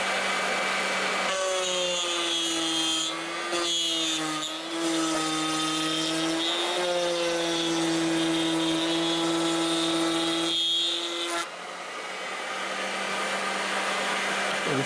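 Router bit cutting a slot into wood for 1/4 inch plywood panels on a nuc beehive box, a loud steady high whine with a brief dip mid-cut before the motor winds down.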